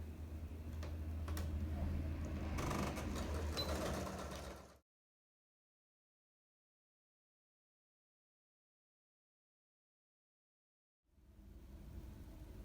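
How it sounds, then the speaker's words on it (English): A sewing machine stitches a 5/8 seam allowance around a fabric baby bib, humming steadily and close for several seconds before a long silence, then running again at the end. "we can definitely go ahead and sew on that 5/8 seam allowance all the way around the bib"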